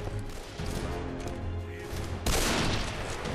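Gunfire in Deadfall Adventures sounds as a dense, loud stretch of shots over a rumbling game background, swelling into a harsher burst near the end.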